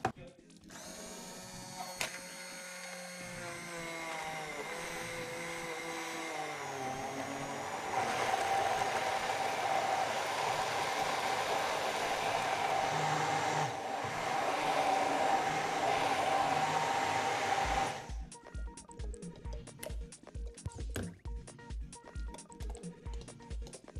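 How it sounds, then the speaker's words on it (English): A blender whirring through a banana, chocolate and chili drink made with milk: a loud, steady motor hum that rises in pitch and holds for about sixteen seconds, then cuts out, followed by clattering. "And now I'm simply going to blend it up."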